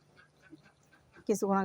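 Soft murmuring and faint background noise, then two loud, nasal quacks from laying ducks burst out close by near the end, after rain.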